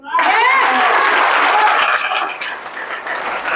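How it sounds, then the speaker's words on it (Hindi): A room full of attendees at a direct-selling leadership meeting breaks into loud, dense applause that starts abruptly, stays strong and close, then thins slightly toward the end, with some voices mixed in. "तालियों से बताओ जरा।"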